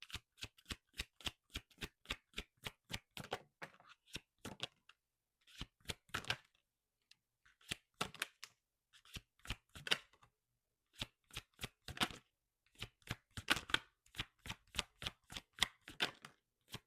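Oracle cards are shuffled by hand, close up, in repeated runs of fast, crisp riffling flutters separated by short silent pauses, with no talking over them.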